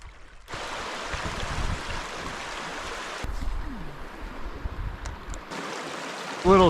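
Steady burbling rush of a small river flowing out of a lake, close and continuous, cutting out briefly in places, with a faint whistling tone near the end.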